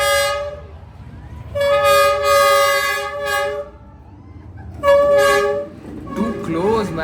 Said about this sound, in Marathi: बघा बघा ट्रेन आली.